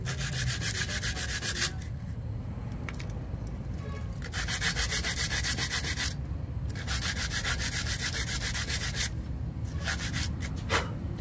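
A Nissan Navara starter part is scrubbed clean by hand: close, rhythmic rubbing strokes come in bursts of a couple of seconds, separated by quieter pauses, steady and moderately loud throughout.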